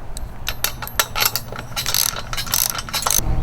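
A ratchet with a 9/16 deep socket clicks rapidly while tightening a truck bed kayak rack, the metallic ratcheting close and loud in quick bursts over a low hum.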